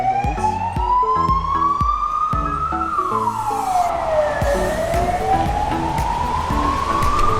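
A police ambulance siren in Cadiz, Spain wails loud and close, its tone sliding up and down in long sweeps over a steady low rumble, with no voices.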